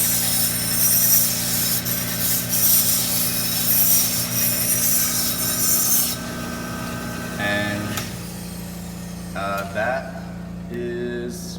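A Kalamazoo 1x42 belt grinder hums and hisses steadily as metal edges are pressed to the belt for deburring, a close grinding rasp that eases off partway through, leaving the motor drone with a few short touches of the work.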